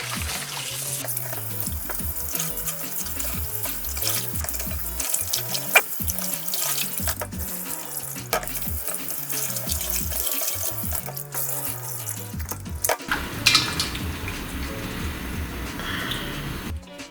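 Tap water runs steadily into a sink as catfish pieces are rinsed by hand, with splashing and sloshing that shifts in level throughout.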